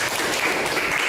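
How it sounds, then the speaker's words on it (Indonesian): Schoolchildren in a classroom applaud a group after a project presentation, a brief patter of many hands clapping at a fairly soft, even level. "Beri tepuk tangan."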